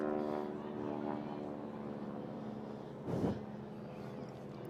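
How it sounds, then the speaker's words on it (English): Radial-engine airplanes fly over a Veterans Day parade in Birmingham, giving a steady, distant droning roar that holds throughout, with a brief louder gust midway. "Very distinct engine sounds for those planes. Most of them are radial engines"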